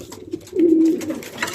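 Racing pigeons at a loft give a single close, soft low coo that swells and holds for about half a second, set against quiet background rustle.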